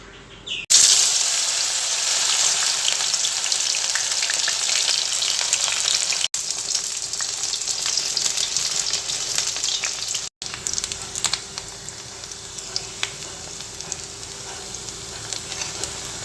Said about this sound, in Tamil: இப்போ நம்ம ஆயிலில் வந்து டீப் ஃப்ரை பண்ணி எடுத்துடலாம்